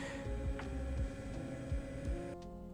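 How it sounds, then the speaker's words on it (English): A small laser cutter cuts light 3 mm plywood with a continuous electrical hum broken by soft, regular thumping pulses as the head moves, close and fairly quiet. "And this is cutting on my little laser cutter."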